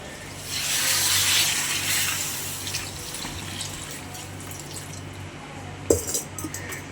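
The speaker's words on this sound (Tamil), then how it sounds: "ஓகே, இப்போ நம்ம வந்துட்டு ஒரு சொம்பு தண்ணி ஊற்றிக்கலாம்." A jug of water is poured into a pot of curry being cooked for a temple festival, a broad splashing gush in the first seconds that settles into trickling and drips, with a few sharp clinks and splashes near the end.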